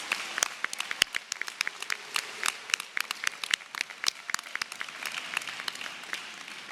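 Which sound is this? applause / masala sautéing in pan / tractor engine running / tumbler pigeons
applause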